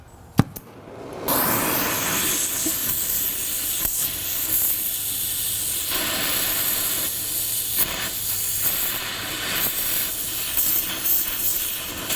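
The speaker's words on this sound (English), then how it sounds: "this is another job for the torch" After a short click, a torch flame roars into a steady, loud hiss that lasts throughout as it heats a stuck front suspension part on a 1998 Mazda 626.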